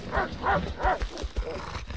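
A dog in the survival game Rust barks in a quick run of about five gruff barks, fairly close, with faint background noise between them.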